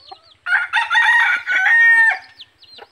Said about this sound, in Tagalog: ilagay natin sa malapitan at saka yung labuyo na nahuli ko nung nakaraan